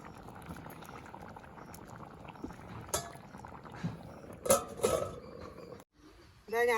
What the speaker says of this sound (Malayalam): ഇതാ ഞാൻ ചട്ടി വെച്ച് വെളിച്ചെണ്ണ ഒഴിച്ചിട്ടുണ്ട്. ഒരു 3 സ്പൂൺ വെളിച്ചെണ്ണ ഒഴിച്ചിട്ട് ഇതാ 1 സ്പൂൺ കടുക് ഇട്ടിട്ടുണ്ട്